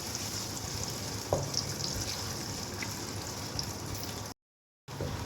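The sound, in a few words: onions frying in hot oil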